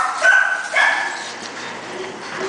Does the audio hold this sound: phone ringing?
no